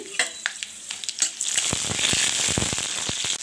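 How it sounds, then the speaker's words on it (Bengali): One spoon of black mustard seeds and five or six green chillies hit hot refined oil in a pan, giving quick early pops and then a loud, steady sizzle with sputtering crackles, close up. "রিফাইন অয়েল দিয়ে দিলাম 1 চামচ, 1 চামচ কালো সরষে দিয়ে 5-6টা কাঁচা লঙ্কা দিয়ে দিচ্ছি।"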